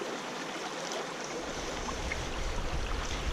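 Water sloshes and rushes steadily as river gravel is washed down in a gold pan on a riverbank, a continuous close wash that grows slightly fuller and louder partway through.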